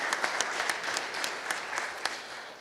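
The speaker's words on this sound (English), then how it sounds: "Let's give them a round of applause," A round of applause from the audience at a regional development summit, an even, faint wash of clapping with scattered distinct claps.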